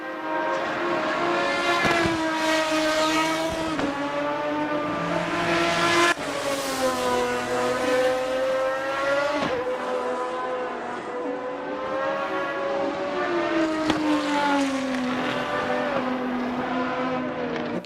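A Ferrari race car engine in the Assetto Corsa racing game screams through repeated gear changes, with rising revs, sharp shifts and a brief drop before climbing again, loud and close with no talking over it.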